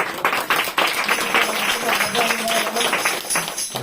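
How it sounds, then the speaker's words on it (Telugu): An audience at a youth meeting song competition claps in a dense, continuous patter of many hands for several seconds, with voices murmuring underneath. "క్లాప్స్ కొట్టండి."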